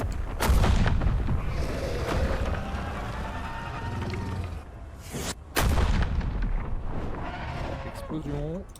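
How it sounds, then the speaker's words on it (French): Explosions in a combat video game, loud booming blasts with sharp cracks and rolling rumble, one heavy burst midway after a brief silence, mixed with vehicle noise and people talking. "Explosion."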